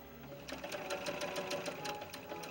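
Sewing machine stitching the curved back seam of a silver jacket, a fast, steady close-up run of rhythmic needle clatter that holds for a couple of seconds.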